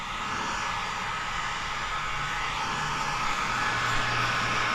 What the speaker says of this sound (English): we're gonna warm up that edge, and we're gonna use heat gun.